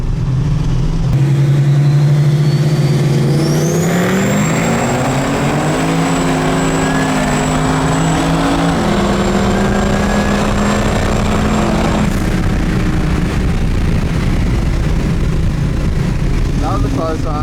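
A turbocharged LS-engined car accelerates hard at a roll racing event, its engine climbing loudly through rising pitch with a gear change and a whining turbo, sustained close by for most of the clip while people talk beneath.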